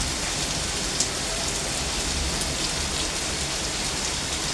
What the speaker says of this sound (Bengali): কত জোরে বৃষ্টি।